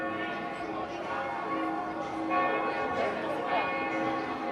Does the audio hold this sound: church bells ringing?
yes